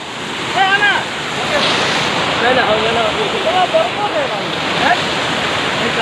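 A waterfall in Shillong roars in a loud, steady wash of rushing water, while people nearby talk and call out over it.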